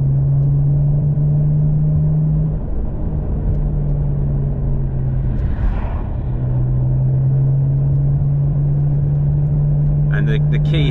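Tuned DCT-swapped BMW 335i with an N54 engine at stage 3 power, rolling on in second gear from 60 to 120, gives a loud, sustained engine drone with a steady tone, close inside the cabin, with a voice speaking toward the end.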